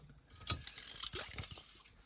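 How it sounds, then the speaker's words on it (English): A car stereo volume knob is turned under firm pressure with soft clicking and scraping, a sharp tick near the start followed by faint gritty rotating sounds, close up. "So just put some decent pressure on it and keep turning it."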